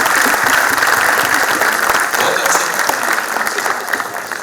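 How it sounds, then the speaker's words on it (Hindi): Loud, sustained applause from an audience at a poetry recital (kavi sammelan) tribute to martyrs, held at a Delhi university, steady dense clapping filling the whole stretch and easing slightly toward the end. "इस बात पर एक बार जोरदार तालियां बजाएं"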